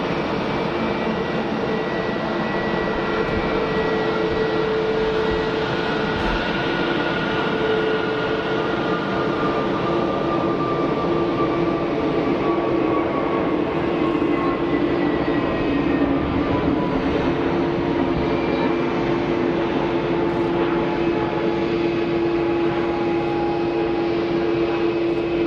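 An EasyJet airliner takes off at Geneva Airport, its jet engines a loud, steady roar with a high whine that holds unbroken for about twenty-five seconds.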